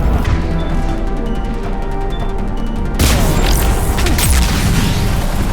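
Mass Effect 3 gunfire and explosive booms in a dense, loud battle, a rapid metallic rattle giving way to heavy crashing blasts that fill the sound.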